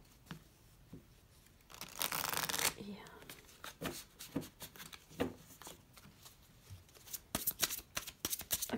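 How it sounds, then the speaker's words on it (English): Oracle cards are shuffled by hand, with one long riffle followed by repeated quick slaps and flicks of the deck, recorded close up alongside soft talking. "Let's see if they're easy to shuffle"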